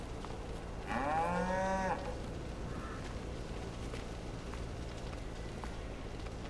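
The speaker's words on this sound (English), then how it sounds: "he'll start feeding them cows on the way back" Cattle in the farming video game Big Fields XXL give a single clear moo lasting under a second, heard over a steady ambient game background with no talking.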